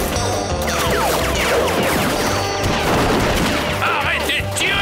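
Cartoon gunfire rattles through a Lucky Luke bank hold-up scene, a dense, continuous barrage of overlapping shots and crashes held at steady loudness for the whole stretch.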